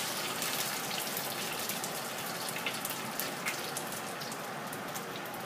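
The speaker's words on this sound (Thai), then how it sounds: "ตั้งน้ํามันให้ร้อนเนาะค่ะ ทอดลงไปเลยนะคะ" Glass noodle omelette fries in hot oil with a dense, even hiss of bubbling fat, a steady close crackle resembling rain that holds without pause.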